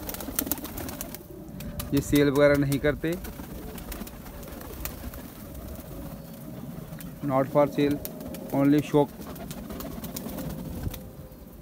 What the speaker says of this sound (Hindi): आशा करता हूं कि आप सभी को बहुत ही अच्छे लगे होंगे हमारे भैया के कबूतर